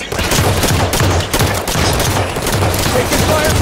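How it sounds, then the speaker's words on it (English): Gunfire in a Halo 5 Guardians firefight, dense rapid bursts of shots rattling continuously and loudly, with a few heavier booms and a voice speaking underneath. "Taking fire from the soldier."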